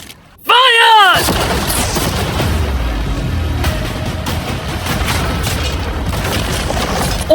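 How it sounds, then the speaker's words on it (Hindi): Cannons fire at a new yacht, a sharp boom opening into a long, loud roar of impacts and crashing debris with storage containers being torn apart, continuing steadily throughout. "अब हम तुम्हारी नई यॉट पर कैनन्स को शूट करने वाले हैं"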